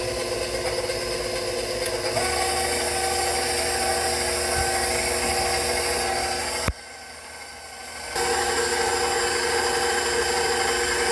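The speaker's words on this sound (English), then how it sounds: "Now we're gonna start with whisking everything together." An electric mixer whisks white chocolate coconut rum cake batter with a loud, steady motorized whir and a rough grinding edge. The sound cuts out briefly partway through, then resumes at full strength.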